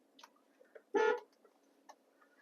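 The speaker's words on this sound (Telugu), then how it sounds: "హారన్ ప్రెస్ చేయి." A single car horn honks once, loud and clear, during a driving lesson with a trainer, standing out against a quiet cabin.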